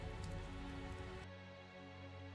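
Rain falling in the video game Tales of Zestiria, a soft steady patter and hiss of raindrops, faint and continuous, layered with sustained tonal game sound.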